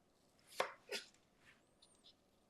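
A knife cuts slices of a soup garnish into thin matchsticks on a board, giving two sharp close chops followed by a few fainter taps, with no talking.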